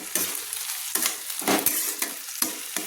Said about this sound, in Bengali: দিয়ে ভালো করে আমি আদা রসুনটাকে তেলের সঙ্গে কষিয়ে নিচ্ছি